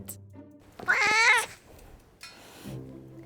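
A house cat gives one loud, drawn-out close meow, followed by a softer, shorter cry, with quiet gaps between.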